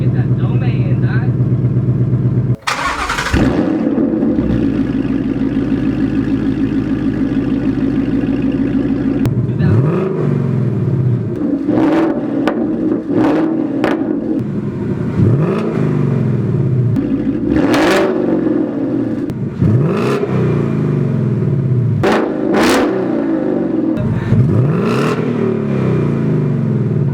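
A 2019 Mustang GT with a Corsa Xtreme exhaust idles loudly, then is revved repeatedly in sharp bursts that rise and fall back to a deep rumble, with talk in the background.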